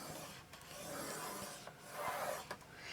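Paper being scored for a small Christmas gift bag, heard as faint, close scratchy rubbing strokes with a few soft taps, with no talking.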